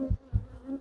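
Honey bees buzzing around a hive in an apiary, a low droning hum that swells in two close pulses and again near the end, with no talk.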